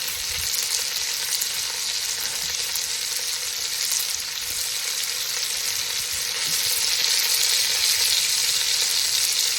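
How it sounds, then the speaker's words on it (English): Food browning in hot oil in a pan for a soup or stew, a steady dense sizzle and crackle holding loud and even throughout with no talking. "we're not going to cook it all in the right now. We're just browning."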